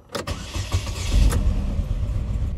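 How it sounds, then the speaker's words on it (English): Chevy Cobalt engine with a misfire on cylinder two, cranking and catching into a rough idle close by. It starts with a burst and settles into a low, uneven running rumble, with no talk. "it looks like we still have a misfire on cylinder number two"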